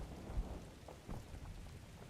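Steady rain falls in the wartime Normandy setting of Combat Mission Battle for Normandy, a soft, constant hiss with low rumbling underneath and a few faint thuds, quiet and without voices.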